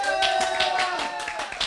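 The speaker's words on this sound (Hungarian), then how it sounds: "Köszönjük szépen a tapsot." Rhythmic clapping from a live studio audience at a Hungarian mulatós music show keeps a steady beat alongside music.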